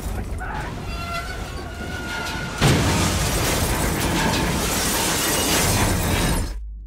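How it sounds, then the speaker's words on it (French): A sudden loud blast tears through a train interior in Call of Duty: Black Ops 3, cutting in over steady machinery hum and low talk, then a long roaring wash of debris and shattering that ends abruptly. "À 7h31, un groupe terroriste provoque une explosion à bord de ce train."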